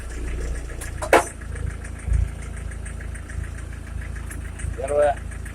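A homemade tractor with a Mercedes diesel engine chugs and knocks as it picks up speed, its low throbbing engine note rising in a few surges while people talk nearby.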